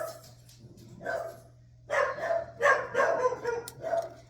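Several small puppies bark and yip in quick, overlapping bursts, close by and fairly loud, with a low steady hum beneath.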